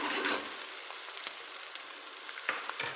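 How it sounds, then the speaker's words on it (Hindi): Onions fry in a pan over a medium flame, giving a soft continuous sizzle with scattered crackles and light stirring scrapes, fairly quiet throughout. "इस तरह से हमारे प्याज थोड़े से भून जाएं तो फिर हम इसमें बाकी के मसाले ऐड करेंगे"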